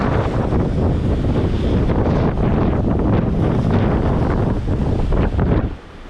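Strong, steady wind roars across the microphone aboard a sailboat under way at sea off Brazil, a loud continuous buffeting that mixes with the wash of waves and drops off abruptly at the very end.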